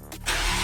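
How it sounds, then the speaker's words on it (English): A BMW X3M Competition with the S58 3-liter twin-turbo engine cranks and catches, a short close starter whir rising into a loud engine roar. "let's just start the car to get some oil going through it"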